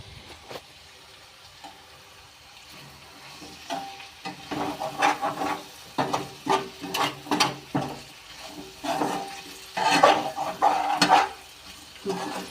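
Potatoes sizzle softly in a pan while a utensil scrapes and stirs in repeated strokes, the stirring growing busier and louder toward the end.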